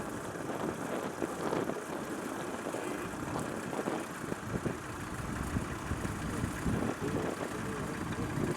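A small vintage tractor engine runs steadily at a farming working-day event in Lincolnshire, a continuous low rumbling drone at moderate distance with no break.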